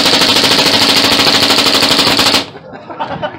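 An airgun fires automatically at a benchrest competition, loosing a fast, loud, continuous rattle of shots up close. The burst stops abruptly, leaving faint clatter and room noise.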